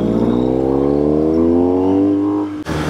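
A BMW GS motorcycle engine revs up loudly and close, its pitch climbing steadily over a few seconds before cutting off abruptly.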